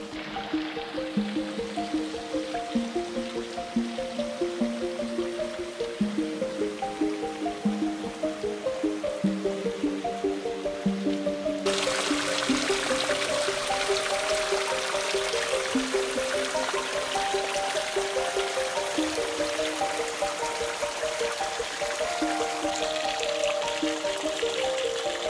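Cold radon spring water seeps and trickles from rock at the Tamshybulak spring near Kapal-Arasan, a continuous soft babbling flow heard alongside steady background music.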